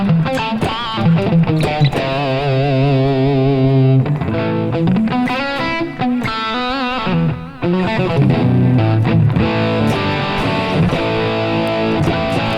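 Electric guitar played through distortion, thick sustained chords and riffs with a short pause near the four-second mark, loud and continuous with no voice.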